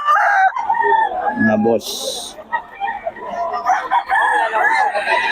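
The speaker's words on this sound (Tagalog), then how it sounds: "Solid yung mga manok ni Boss Eric, oh." Roosters crow at a bustling market, one long crow rising clearly near the start, with clucking and more crowing under a voice talking throughout.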